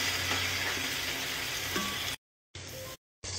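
Onions, garlic and ginger sizzle and fry steadily in a pot over low heat, a close, even crackle broken by two brief silent gaps.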